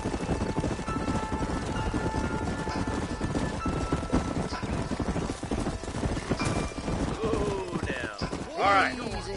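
Steady clip-clop of horse hooves at a trot in Red Dead Redemption, with voices talking over them and a brief whinny near the end.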